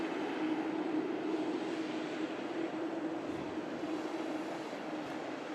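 A Juneyao Airlines airliner departs Manchester Airport for Shanghai, its jet engines giving a steady, broad roar that holds at an even level throughout, with no voices.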